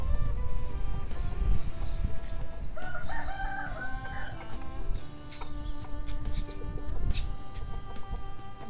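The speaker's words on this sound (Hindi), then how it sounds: "इसके अलावा 2 असील मुर्गे और हैं, वो भी मैं आपके साथ शेयर कर देता हूँ" An Aseel rooster crows close by, a loud drawn-out call in the middle among clucking and other farmyard noise, with further fowl calls toward the end.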